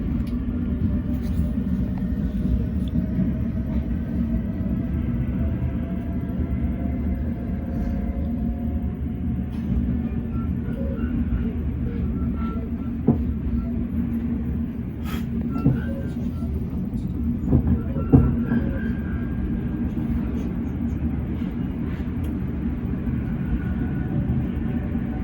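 Onboard electric multiple unit 465927, a steady low motor and rail rumble drones continuously with occasional faint clicks and knocks, no voices over it.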